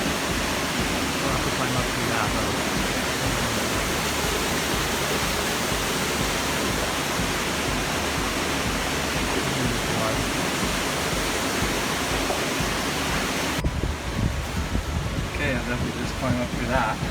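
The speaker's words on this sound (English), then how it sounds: "Now I'm out on top of the waterfall." The waterfall at Sulfur Creek roars as a loud, steady broadband rush heard from close by, filling the whole stretch with little change, and a voice talks over it.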